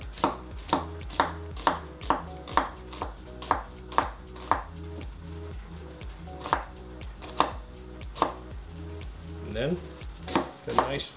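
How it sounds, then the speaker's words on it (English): A knife chops a red onion into fine cubes on a cutting board, a steady series of crisp, close knocks about twice a second, slowing and turning more irregular toward the end. "So we're gonna go across the blade, across the onion, right about to the end without cutting all the way through."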